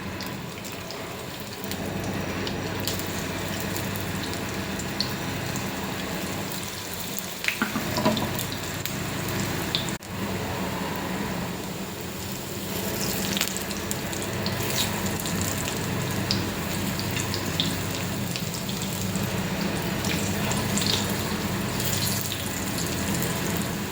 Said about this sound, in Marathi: पॅन ठेवलेला आहे तेल टाकून घ्यायचं आहे आणि दोन्ही साईडने छान गोल्डन ब्राऊन कलरवरती आपल्याला हे टिक्क्या भाजून घ्यायच्या आहेत